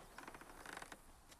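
Pulley-driven trap mechanism in The Last of Us snapping into action, a short run of quiet clicking, ratcheting mechanical ticks and creaks with a brief later rattle, faint and close, no voices.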